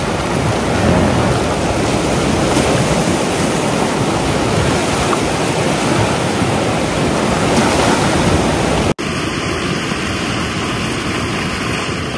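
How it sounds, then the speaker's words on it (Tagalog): Ocean waves surging against rocks at Tibu Tidal Pool in Dilasag, Aurora, a loud, steady broadband wash of churning water with no voices, cut briefly near the end before continuing slightly thinner. "dito kasi humampas yung alon sa sa bato, kaya nag-iiba yung ikot ng tubig"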